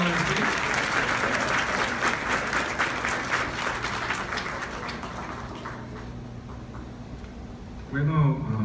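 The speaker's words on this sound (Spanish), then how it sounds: "Un aplauso, porque ellos son los verdaderos emprendedores" Audience applause for entrepreneurs called onto the stage at the Televisa PosibleLA pitch event, loud dense clapping that gradually thins and fades, then a voice speaks at the end.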